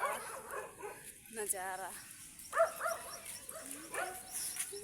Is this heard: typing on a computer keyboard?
no